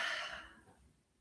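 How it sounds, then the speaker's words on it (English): A single soft exhale of breath during a morning meditation, a breathy hiss that starts fairly close and fades away over about a second. "Exhale."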